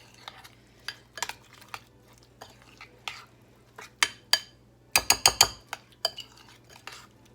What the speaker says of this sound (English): now we're going to mix this all up